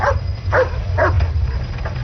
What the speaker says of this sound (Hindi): क्या हो गया तुम्हें? भौंकना बंद करो